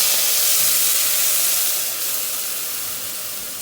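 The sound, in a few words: onions sizzling in hot oil with panch phoron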